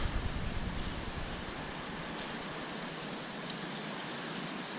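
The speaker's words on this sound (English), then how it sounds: "That was quite a little rain we got there." Heavy rain pours steadily during severe weather, a dense, continuous hiss of drops drumming on surfaces nearby, with no voices.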